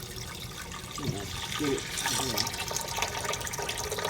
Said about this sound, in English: pouring out rice.